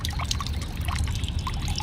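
Water trickling and dripping from a freshly washed dress, a steady close splatter of drops running for the whole short stretch with no talk over it.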